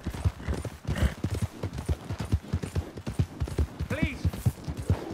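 Horse hooves clip-clop in a steady rhythm while riding in Red Dead Redemption 2, close and moderately loud beneath continuous talk.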